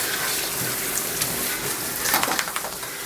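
Water from a tap or sprayer runs in a steady hiss while a terrier is rinsed during grooming, with faint splashes and brief higher chirps over the continuous flow.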